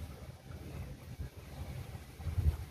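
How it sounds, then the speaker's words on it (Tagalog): Strong wind at a seashore, a steady low rumbling gust buffeting the microphone, swelling louder near the end, with surf likely mixed in beneath it and no voices. "ang lakas ng hangin dito mga kaibigan"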